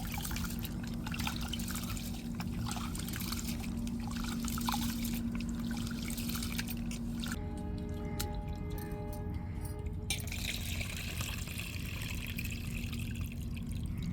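Raw ration rice being washed by hand in water in a home kitchen while preparing appam, giving a steady close-up trickling, sloshing and dripping of water that runs throughout without speech.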